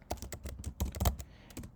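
Quick, uneven keystrokes clatter on a computer keyboard as code is typed, a short close burst of taps with brief pauses between them.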